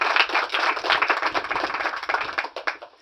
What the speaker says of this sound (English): I want to give them a good round of applause